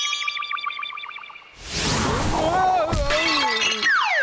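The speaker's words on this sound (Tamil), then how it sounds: "உன்னாலதான் அந்த பானை உடைஞ்சு போச்சுடா" A clay pot shatters with a loud crash in a Boonie Bears cartoon after a stretch of bright musical tones, followed by ringing debris and comic whistling slides.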